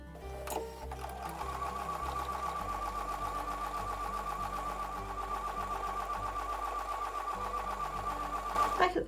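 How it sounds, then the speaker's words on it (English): A sewing machine runs in one steady burst, stitching lines on a Honeymoon quilt block with a quarter-inch foot, whirring evenly up close and stopping with a brief clunk at the end. "When I take these to the sewing machine, I'm going to line the edge of the 1/4-inch foot up against the line"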